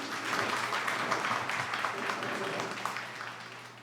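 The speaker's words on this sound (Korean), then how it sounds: "사랑과 존경의 마음을 담아 큰 박수로" A church congregation applauds to welcome the pastor at a spring service, a steady, moderately loud wash of clapping with a low constant hum underneath, tapering slightly at the end.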